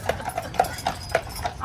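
Horse hooves clop steadily on a street on Mackinac Island, Michigan, a quick even rhythm of sharp hollow strikes close by over faint background murmur.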